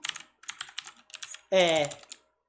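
Computer keyboard keys, including Enter and F5, pressed in quick clicky taps in small clusters, close by, followed by a short voiced sound.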